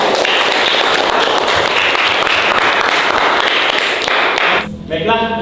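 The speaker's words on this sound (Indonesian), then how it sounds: "Cukup bagus sekali, kasih aplaus dulu." Applause breaks out in a classroom during a civics lesson, loud and sustained dense clapping that fades near the end as a voice begins speaking.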